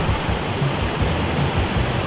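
A river flows through the Pampán valley, lined with eucalyptus, willow and molle trees, giving a steady, dense rushing of water like a small waterfall, loud and continuous with no voices.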